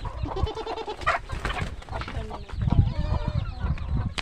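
Chickens cluck and cackle near a goat house in a busy farmyard mix, with overlapping fowl calls and some animal noise close by, no clear talk.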